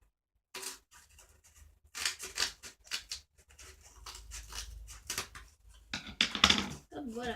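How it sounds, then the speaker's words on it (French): Scissors cut a small piece of cardboard: a quiet, close run of crisp snipping and crunching strokes, with a brief voice and soft handling noise near the end. "on va prendre un petit bout de carton. Hop. Je vais couper ici à peu près."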